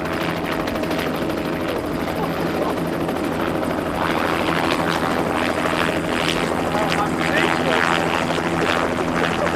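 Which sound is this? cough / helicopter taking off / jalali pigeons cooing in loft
helicopter taking off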